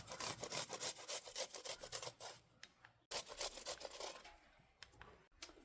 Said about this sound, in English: I don't particularly like chopping garlic, so what I tend to use is my cheese grater